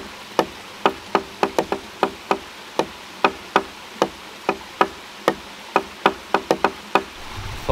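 Knocking on a hollow piece of driftwood found outdoors, about twenty sharp woody raps in an irregular rhythm, close and clear, with no talking.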